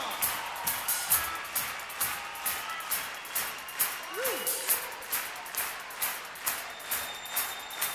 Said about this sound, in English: let's hear some real hand clapping and some foot stomping